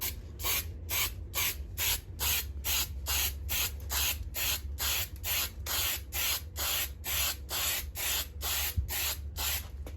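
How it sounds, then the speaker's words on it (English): Rapid bursts of spray from a metallic spray can laying a first coat on car wheels, about twenty short hissing puffs in a steady rhythm over a low background hum. "now it's time for the first coat of metallic spray"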